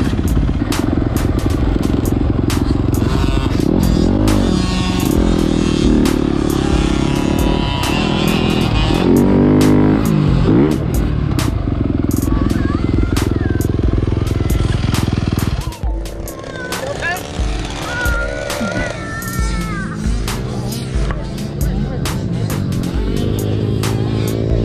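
A motocross dirt bike engine runs loudly and steadily at a motocross track, with clattering and revving, the sound dropping partway through, while people talk over it.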